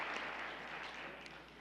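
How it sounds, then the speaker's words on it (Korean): Church congregation applauding during a New Year worship service, a dense wash of clapping heard from across the room, steady and moderately soft throughout. "우리 하나님 앞에 2019년도를 주심을 감사드리며 영광의 박수를 올려드리겠습니다."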